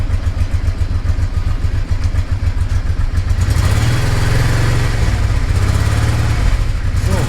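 A Honda Deauville's old exhaust idles with a steady, throaty burble, loud and close, with a slight rise in rumble partway through.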